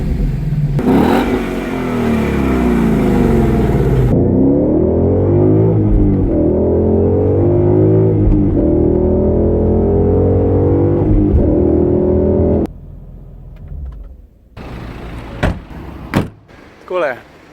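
A Ford Mustang's engine roars loudly and steadily as it revs and drives close by, pitch rising and falling through gear changes, then drops away to a door thud and quieter handling noises at the end.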